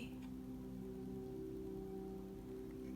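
Steady, soft hiss of rain falling outdoors, an even wash of drops with a faint low hum beneath, continuous and fairly quiet.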